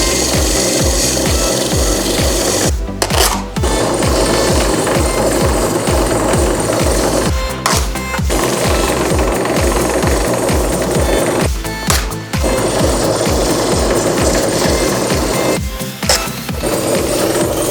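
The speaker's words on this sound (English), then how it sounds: "I'm gonna finish it off with some sandpaper." Sandpaper worked over a toilet paper holder made from toilet paper hardened with CA, a loud continuous close rasping that halts briefly four times.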